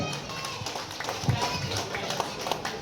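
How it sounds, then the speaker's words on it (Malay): Applause from families at a preschool appreciation ceremony, a steady patter of many hands clapping with crowd murmur throughout, moderately loud and continuous. "Berikan tepukan."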